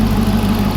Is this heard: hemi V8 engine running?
yes